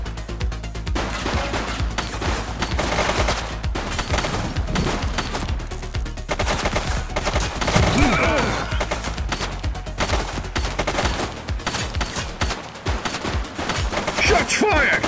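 Sustained gunfire from a shootout in the video game The Precinct, dense bursts and rapid shots crackling continuously for the whole stretch amid loud game action, with a little voice mixed in.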